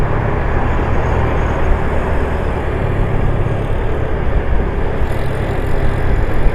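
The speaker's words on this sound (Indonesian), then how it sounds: "Laju-laju ini mobil ya, mau mobil mau motor, waduh kenceng-kencengnya." Steady, loud road traffic on a city ring road in Manado, Indonesia, with cars and motorbikes speeding past; a continuous dense rumble with no pauses and no talking.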